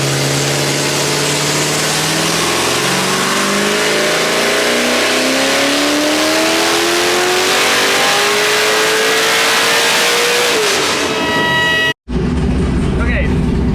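A nitrous-fed car engine on a chassis dyno revs hard and loud, pitch climbing steadily for about ten seconds before cutting off abruptly, followed by a brief quieter tail.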